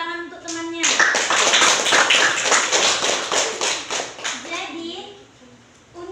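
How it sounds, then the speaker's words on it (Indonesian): Classmates in a classroom break into loud, brisk applause for a peer, a dense burst of clapping that tapers off as a teacher's voice returns at the start and end. "beri tepuk tangan untuk temannya"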